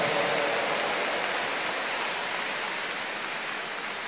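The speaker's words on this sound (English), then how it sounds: "let's give the Lord a big round of applause" Large church congregation applauding at a sermon gathering in Dubai, a steady, even hiss of many hands clapping together at a distance, sustained without breaks and slowly fading slightly.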